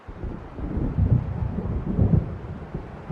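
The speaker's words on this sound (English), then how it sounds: "It seems there's a storm coming" An approaching storm in Alan Wake Remastered, low rolling thunder swelling twice over a steady windy roar, heavy and close with no voices.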